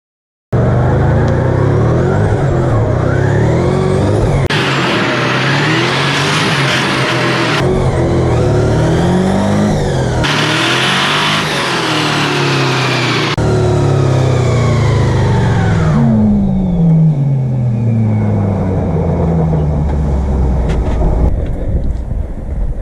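A turbocharged V8 Mercedes CLK revs hard and loud during a burnout, holding several long high-rpm bursts and rising sweeps, with wind buffeting on the microphone, before the engine drops back toward a lower, settling run near the end.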